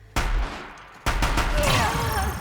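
Two loud, close weapon shots in Horizon Zero Dawn, each a sharp blast with a lingering rumbling tail, about a second apart.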